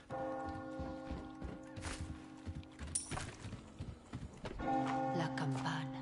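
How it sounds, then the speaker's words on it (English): A church bell rings in Resident Evil 4 Remake, heard amid steady clip-clop hooves, sustained tonal ringing and busy game noise, with no speech. "Please tell me that's the bell."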